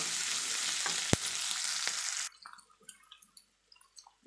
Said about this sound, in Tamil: வெங்காயம் நல்லா வதக்கி எடுத்துக்கலாம்.